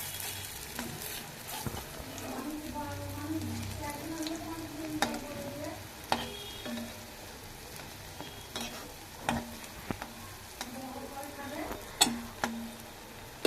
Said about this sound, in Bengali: আমি তেলে ছেড়ে দিয়ে লাল লাল করে ভেজে নিচ্ছি